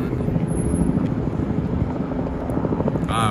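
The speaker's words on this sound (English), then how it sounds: "there's a helicopter on top of us" Steady rotor drone of a helicopter flying overhead above New York City, a constant loud rumble filling the scene with wind buffeting the microphone.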